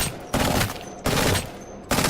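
A gun fires in Apex Legends in three loud, evenly spaced bursts, each a hard, punchy report that fades briefly before the next.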